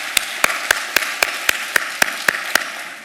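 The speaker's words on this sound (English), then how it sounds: "That does deserve a round of applause, right?" Evenly spaced claps at a steady beat, about ten sharp hand strikes in three seconds, close and fairly loud, with a light hall ambience between them at a Parsons School of Design event.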